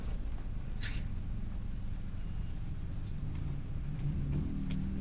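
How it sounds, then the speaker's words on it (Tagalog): Traffic on a rainy night road with motorcycles weaving through, heard as a steady low engine rumble and road hiss with a few brief passing whooshes, continuous and moderately loud. "Singit ng singit yung mga motor."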